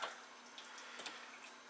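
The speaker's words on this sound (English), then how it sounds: "we take the stock that's left from the fat and we pour that back on" Leftover stock is poured back onto cottage pie mince, a soft steady trickle of liquid, faint and close, with no talking.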